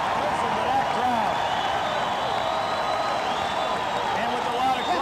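The crowd at a wrestling match roars and cheers in a continuous wash of noise, with a commentator's voice talking over it.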